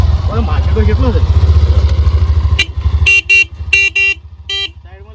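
A motorcycle engine rumbles close by for a few seconds, then several short, sharp horn toots sound in quick succession, with people talking around it.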